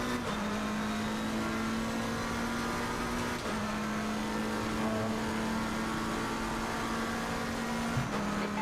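A McLaren 720S GT3 race car drifting at the Nürburgring in a racing video game, its engine a steady, continuous drone that holds one pitch with only slight dips, heard alone without talk.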